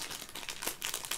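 A small bag from an advent calendar crinkles as it is handled: a quick flurry of soft, irregular rustling and crackling, close and fairly quiet, with no talking.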